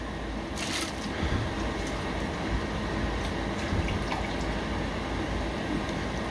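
Steady bubbling and splashing of boiling water in a pot, with a brief burst of splashes as new potatoes drop in for blanching, continuous and close throughout.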